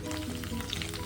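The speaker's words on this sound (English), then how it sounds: "My chicken is frying now," Marinated chicken fries lightly in a shallow pan, giving a steady, close sizzle with soft crackling throughout.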